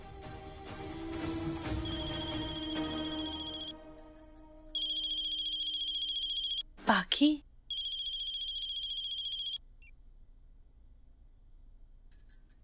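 Telephone ringtone chiming in two steady bursts of bright repeated electronic rings, loud and close, separated by a clattering pickup; someone speaks briefly before the first ring.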